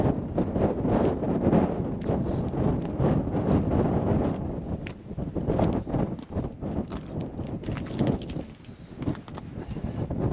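Cold wind buffets a small stone shelter on Carnedd Llewelyn in the Welsh mountains, a loud constant roar with gusty rumbling and microphone buffeting that swells and eases throughout.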